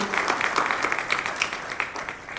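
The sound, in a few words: audience applause welcoming a guest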